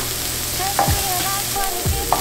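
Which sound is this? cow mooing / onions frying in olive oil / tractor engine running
onions frying in olive oil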